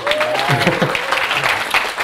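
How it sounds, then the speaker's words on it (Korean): An audience at a TEDx talk breaks into applause, a dense, loud clapping that holds steady across the moment, with a voice faintly present beneath it. "박수 쳐주셔도 돼요."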